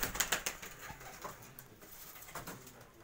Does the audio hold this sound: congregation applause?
no